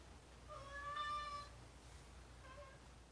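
A pet cat gives two meows close by, a drawn-out one and then a shorter one after a pause, in an otherwise quiet room.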